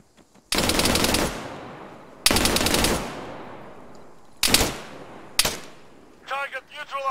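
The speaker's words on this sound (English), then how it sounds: "What are you shooting at?" Automatic gunfire in the military shooter Arma 3, loud close bursts lasting under a second each, four bursts spaced a few seconds apart, with a voice speaking briefly at the end.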